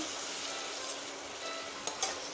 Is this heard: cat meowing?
no